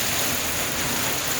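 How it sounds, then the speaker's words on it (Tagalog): Rain falls steadily outside on a wet morning, a dense, even hiss with no breaks or voices over it. "Gusto ko yung weather namin ngayon. Umuulan siya."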